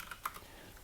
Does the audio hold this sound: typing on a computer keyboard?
yes